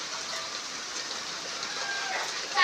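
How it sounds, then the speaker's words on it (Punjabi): Heavy rain pours down in a dense, steady hiss that fills the scene, loud and even throughout, with no voices. "ਮੀਂਹ ਦੇਖੋ ਕਿੰਨਾ ਤੇਜ਼ ਆ ਗਿਆ"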